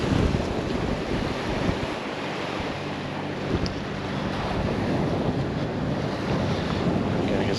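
Ocean waves at high tide wash along the shore of a Maldives resort island, a continuous surf hiss mixed with gusty wind buffeting the microphone, steady and fairly close.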